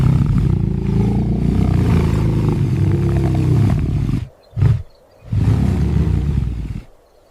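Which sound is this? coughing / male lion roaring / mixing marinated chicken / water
male lion roaring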